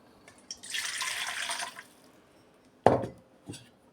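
Warm water pours briefly into a container with a soft splashing rush, followed by a couple of clunks and a small splash as something is set down.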